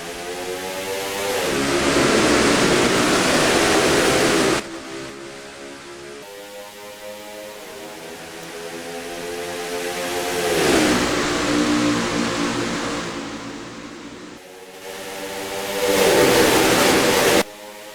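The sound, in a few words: race cars racing in NASCAR Racing 2003 video game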